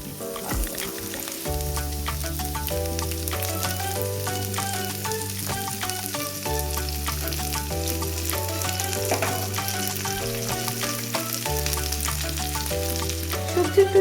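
Chopped beet and carrot fry in a pan with panch phoron, green chili and ginger, giving a steady, close sizzle beneath continuous melodic background music.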